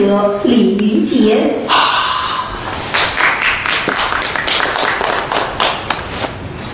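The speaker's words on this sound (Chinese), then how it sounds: "谢谢您的掌声" A theatre audience at a Chinese storytelling show breaks into applause, first under a voice and then a close, steady patter of clapping that continues with sharp individual claps.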